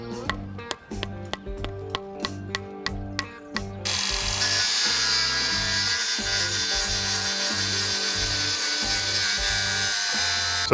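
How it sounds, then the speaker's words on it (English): Metal is cut off: about a dozen rhythmic saw strokes on an old metal hook, then a loud, steady, high-pitched grinding that continues to the end. "So I've just cut this old hook off,"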